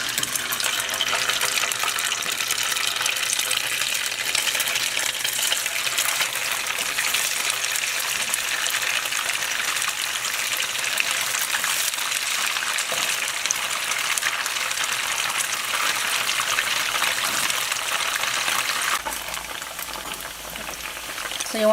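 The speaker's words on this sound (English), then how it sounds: "And I'm gonna fry my tofu. Next, gonna fry your tofu." Tofu deep frying in a pot of hot oil, a steady, loud sizzling and bubbling hiss that runs unbroken throughout with no voices, easing slightly near the end.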